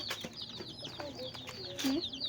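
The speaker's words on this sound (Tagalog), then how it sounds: "Oh, may mga manok dali." Chickens cluck and chirp close by in a noisy yard, with short clucking calls scattered throughout and a louder squawk near the end.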